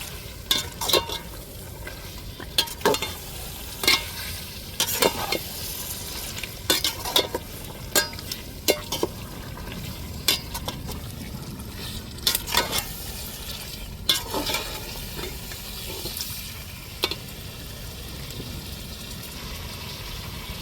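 Chicken and masala for biryani, about one and a half kilos, being stirred in a pot: repeated scraping strokes over a steady sizzle, close and fairly loud, without talk.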